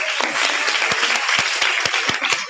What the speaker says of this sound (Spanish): un aplauso enorme para todos